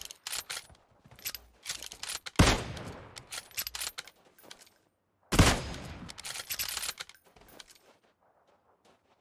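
Gunfire in PUBG Mobile on the Miramar desert map, two sharp loud shots several seconds apart with clattering bursts and rattles around them, then near silence at the end.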